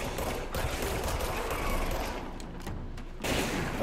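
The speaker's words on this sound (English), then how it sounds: "Oh, they can shoot projectiles now." Enemy gunfire and projectile shots in the video game Control, a dense, loud burst of rapid firing that runs almost without break, with only short dips in the clamor.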